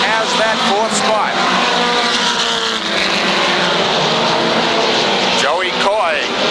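NEMA midget race cars, a lighter Volkswagen and a Chevy, racing around the Waterford Speedbowl oval, engines roaring loudly and continuously with passing whines, under an announcer's commentary.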